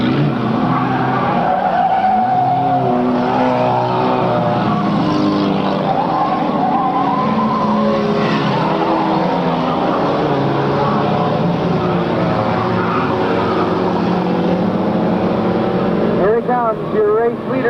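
Race cars roar down the front stretch of a racetrack, engines loud and sustained with pitch sweeping up and down as they pass, under an announcer's steady commentary.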